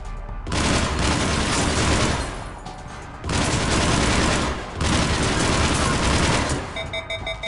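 Rifle gunfire in the sci-fi shooter Mass Effect, loud sustained automatic bursts in three long volleys separated by brief pauses, with faint electronic chirps at the end.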